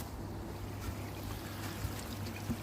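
Water trickles steadily through a bakki shower filter on a koi pond. The splashing is continuous and moderately close, a soft wash with no talking.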